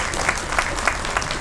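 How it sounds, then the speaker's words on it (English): An audience claps for a new board member at a charter school awards event, a dense, steady round of applause filling the room throughout. "let's give him a round of applause"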